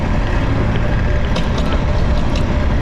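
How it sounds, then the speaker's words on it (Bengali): Steady, close rumble of a small boat moving on the Buriganga River near a launch terminal, with constant wind buffeting the microphone throughout. "আমি একটি ছোটো নৌকায় রয়েছি"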